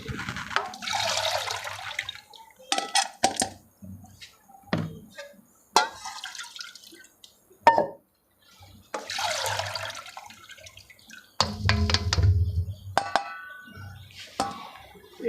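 Lotus stems are washed in water to rinse off mud, with repeated bursts of splashing and running water separated by brief pauses and light knocks.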